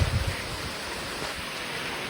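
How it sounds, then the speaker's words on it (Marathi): Light rain falling during a power cut in the Konkan region, a faint, steady hiss of drizzle with no talking. "थोडासा पाऊस पडतोय असंही."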